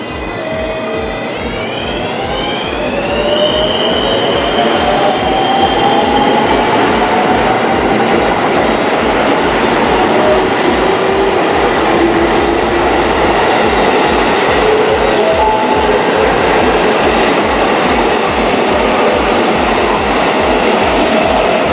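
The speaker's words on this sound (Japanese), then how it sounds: "乗ってきた列車を見送っていきたいと思います" A loud train pulls away from Takatsuki Station in Japan, its wheels clacking in a steady, quickening rhythm while high metallic squeals rise and fade, close by.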